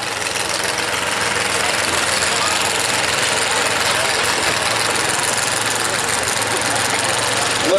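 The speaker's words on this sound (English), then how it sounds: "Got a big block Chevrolet, injected on alcohol, turbo 400, 9-inch forward." A modified mini pulling tractor with an alcohol-injected big block Chevrolet engine, Turbo 400 transmission and 9-inch rear end idles in a loud, steady, lumpy rumble at a tractor pull, continuous throughout with no pauses.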